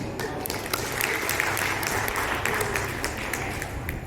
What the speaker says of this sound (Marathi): कडाडणारी प्रत्येक टाळी किंमत सांगते गाण्याची